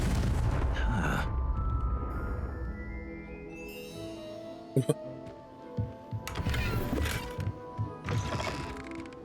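A Confringo explosive spell in Hogwarts Legacy goes off as a sharp boom with a burst of crackle, followed by scattered magical impacts and clatter, while a voice talks over the game's ambient music.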